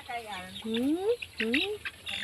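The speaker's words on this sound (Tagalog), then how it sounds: "May manok." Chickens clucking close by, short rising calls repeated a few times over low background noise.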